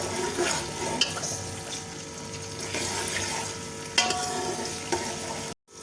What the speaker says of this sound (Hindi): घी के साथ ही अब हम इसमें जो है वो अपने प्याज को डाल देंगे। प्याज को हम इसमें फ्राई करेंगे।